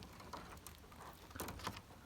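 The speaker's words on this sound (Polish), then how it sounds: "Deszcz pada." Soft, steady patter of rain on a surface by a pigeon loft at night, quiet and continuous, with scattered light drop taps and no voices.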